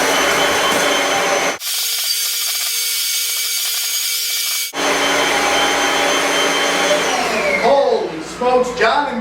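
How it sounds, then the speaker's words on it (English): A Kirby vacuum cleaner runs loud and close while vacuuming a couch, a steady high whine that cuts out briefly and restarts, then winds down with a falling pitch as the motor slows. "I'm just going to vacuum your couch for you"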